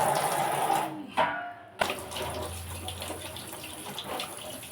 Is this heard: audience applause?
no